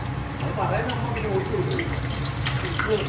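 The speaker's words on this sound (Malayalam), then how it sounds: "വെള്ളം ചൂടാക്കി ഇതിലേക്ക് ഒഴിച്ചു." Hot water poured from a vessel into a pan of curry, a steady watery splash and hiss running through the whole stretch, with voices talking over it.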